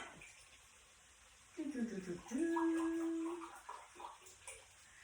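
Organic vegetable broth, about half a cup, poured from a container over cauliflower stuffing, giving a short liquid splash and a steady trickling stream that runs for about two seconds, close and fairly clear.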